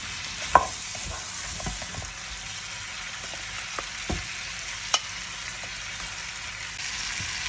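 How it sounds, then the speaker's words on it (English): Shrimp sizzling in garlic butter in a pan, a steady close hiss with occasional soft knocks as a utensil stirs. No one speaks. "Stir it, then you can add your shrimps."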